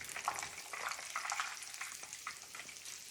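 Coconut shrimp fry in oil in a small pan, giving a steady close sizzle and crackle that runs throughout with no talking.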